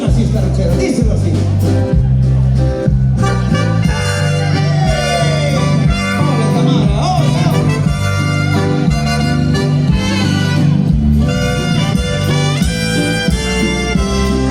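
A band plays a ranchera with brass at a festival, loud and continuous, with horns and rhythm section driving a full live band sound throughout.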